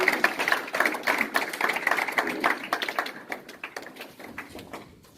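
A church congregation applauds during a Sunday service, a steady crowd of hand claps that is fairly loud at first and then fades to scattered, thinner clapping toward the end.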